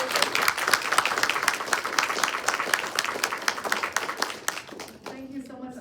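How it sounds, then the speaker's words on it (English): Audience applause after an artist presentation, dense clapping from a crowd that fades out toward the end as a voice begins. "big round of applause for Bruce."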